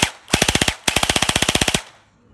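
SKD M4SS toy blaster firing in two full-auto bursts of rapid, evenly spaced snapping shots, loud and close, with a brief pause between bursts and no talk.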